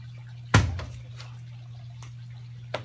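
A ping pong ball dropped into a glass of water gives one sharp, close splash and plop that rings out briefly, followed later by faint small drips and a soft tap, over a low steady hum.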